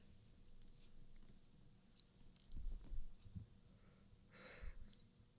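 A person yawns with a drawn-out, breathy exhale, plus some soft sighing breaths, all faint and close in an otherwise quiet room with no talking.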